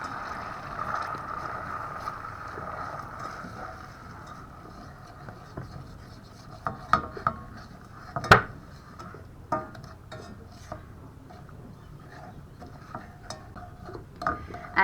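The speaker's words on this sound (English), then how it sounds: "we're just going to stir that until we can see that all the sugar has dissolved" Golden syrup and sugar stirred in a pan, a soft continuous scraping with a few sharper taps of the spoon against the pan, nearby and fairly quiet, with no talking.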